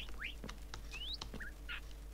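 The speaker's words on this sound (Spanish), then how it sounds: "estos loritos no se quedan quietos" Parrots in the Minecraft game squawk and chirp in short rising and falling calls, several scattered over a couple of seconds and fairly faint, alone without talk.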